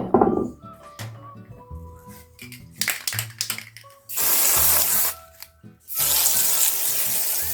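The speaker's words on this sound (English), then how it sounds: "we need to spray and then place it down" An aerosol can of spray adhesive sprays onto fabric for a DIY beach basket in two long hisses near the end, after scattered handling and tapping sounds, close by with no talk.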